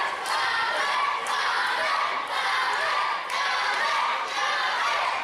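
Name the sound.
wrestling crowd cheering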